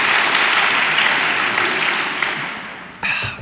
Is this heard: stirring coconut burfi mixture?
no